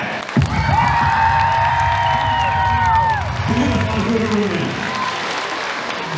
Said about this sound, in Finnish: Annetaan vielä raivat aplodit, hei Nikolle!